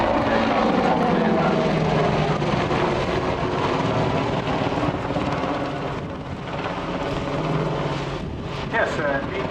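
Heavy rotor and turbine roar from an Apache helicopter flying an air display at RIAT, loud and continuous with shifting pitch as it manoeuvres, while a commentator talks over it.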